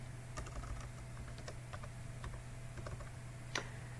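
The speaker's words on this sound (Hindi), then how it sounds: "यहां पर आप सिंपली फाइवर टाइप करेंगे।" Soft, quick keystrokes on a computer keyboard, a short burst of typing with scattered clicks and one sharper tap near the end, quiet and close with no talking.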